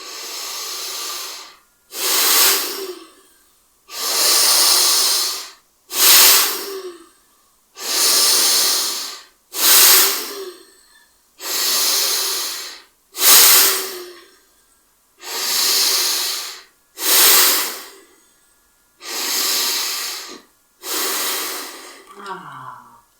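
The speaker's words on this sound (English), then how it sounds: "cleansing breath. Shh. Big breath in." Repeated forceful breaths in a pranayama cleansing-breath exercise, about ten loud rushing hissy exhalations and inhalations in a steady rhythm, each lasting around a second or two, close to the microphone with short silent gaps between them.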